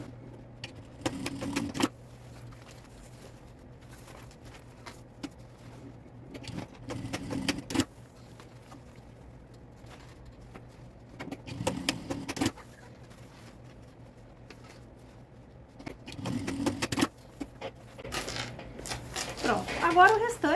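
Bursts of a sewing machine stitching short safety seams on a unisex multifunction university bag, each run lasting about a second or two and recurring several times amid quiet handling noise, with someone talking between the bursts.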